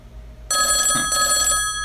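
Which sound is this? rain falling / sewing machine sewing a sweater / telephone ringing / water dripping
telephone ringing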